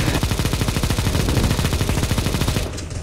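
Rapid automatic gunfire rings out in the zombie escape mode of the video game Counter-Strike: Global Offensive, a loud, steady burst of shots lasting close to three seconds before cutting off.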